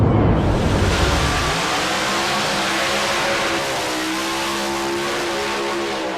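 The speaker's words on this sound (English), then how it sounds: "Oldsmobile Cutlass going through the burnout" A pro stock Oldsmobile Cutlass drag car does a burnout, its engine roaring loud and close with a harsh, sustained blast that settles into a steady high-revving drone.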